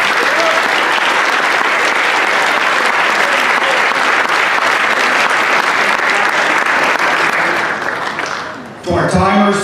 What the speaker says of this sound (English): if you can please give your parents a round of applause